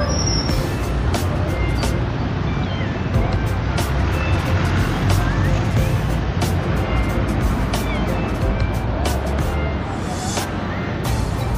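Busy toll road bus stop on a Monday morning as a Mirai bus arrives, engine rumble and traffic noise filling the scene continuously, with air brake hiss and faint beeps breaking through.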